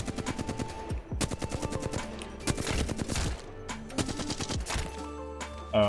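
Rapid automatic gunfire in the Apex Legends firing range, loud and close, with sharp repeated shots in several bursts and brief pauses between them.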